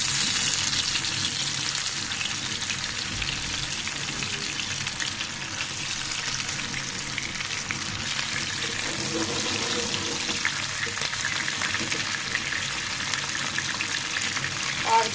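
Hilsa pieces sizzle and crackle in hot oil in a home kitchen, a dense, steady frying hiss that runs loud and unbroken throughout.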